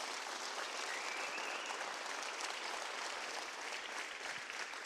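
A church congregation applauds during a Spanish-language sermon, a continuous, even roar of many hands clapping heard from some distance, with no speech over it.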